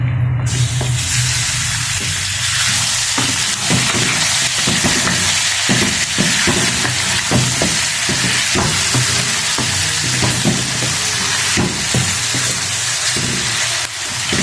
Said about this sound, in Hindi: चिकन को फ्राई करें जब तक ये अंदर से लाइट ना हो जाए।